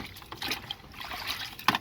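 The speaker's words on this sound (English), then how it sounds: "And I'm just going to agitate this really good." Jeep Grand Cherokee WJ seat belt webbing swished around in a bucket of water with detergent, soft irregular sloshing and splashing close by, quiet, with a sharper splash near the end.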